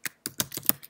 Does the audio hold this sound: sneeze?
no